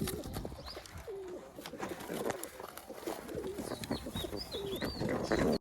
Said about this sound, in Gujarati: તો મિત્રો આમાં જંગલી કબૂતર છે